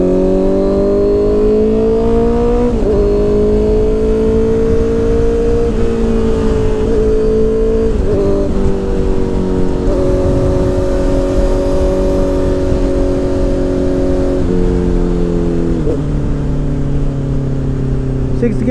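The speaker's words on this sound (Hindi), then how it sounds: "क्लच लिया ब्लिप किया एंड डाउन शिफ्ट" Honda CBR 650R motorcycle engine droning close and loud, with several stepwise pitch changes as it blips and drops through gears on a downshift, with a voice talking over it.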